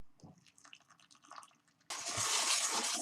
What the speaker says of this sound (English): So now that you've melted the butter, you're going to pour it over the crushed biscuits.